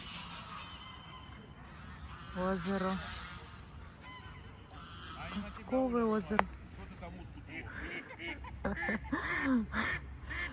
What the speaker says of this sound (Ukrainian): Гуси взбунтовались. Я побігла за уткой. І вони всі загагакали.